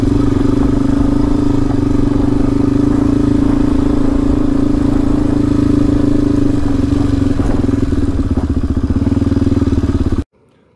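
Motorcycle ridden along an outback track toward Cameron Corner near Sturt National Park in Australia, a loud steady engine drone with rattling and wind, running continuously before cutting off abruptly at the end.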